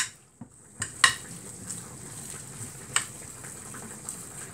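A spoon stirs a chicken-breast meatball mixture with flour in a bowl, giving soft scraping and mushy squelches with a few sharp clinks against the bowl, quiet and close, alone.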